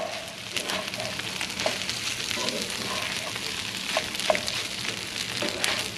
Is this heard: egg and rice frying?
yes